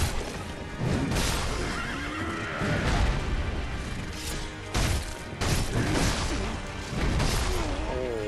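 Horse whinnies from the video game Sekiro, several rising and falling neighs over clip-clop hooves and crashing game sounds, loud and close.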